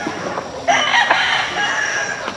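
A fighting rooster crows loudly and close by, a long strained call following some brief clucking from other chickens.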